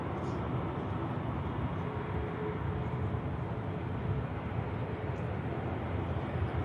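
A Boeing 787 Dreamliner at Manchester Airport in rainy weather, heard as a steady, loud broadband roar that holds without a break.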